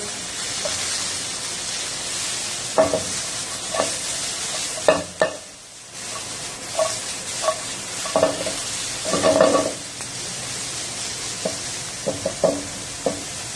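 A chopped onion sizzles in a hot pan for an Afghani omelette, a steady frying hiss broken by repeated scraping and clacking as a spoon stirs it, with no talk.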